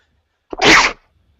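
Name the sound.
sneeze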